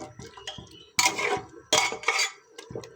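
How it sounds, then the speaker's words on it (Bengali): With the lid lifted off a pot of Bihari-style beef curry, a spoon clanks and scrapes against the metal in a few loud, close bursts separated by quieter gaps, with no voices. "ঢাকনাটা খুলে দিলাম, আবার নেড়ে দিচ্ছি।"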